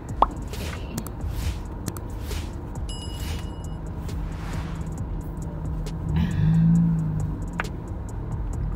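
A car heater blowing inside a parked car's cabin, a steady broadband whoosh of airflow with a low hum underneath and small clicks and knocks scattered through it.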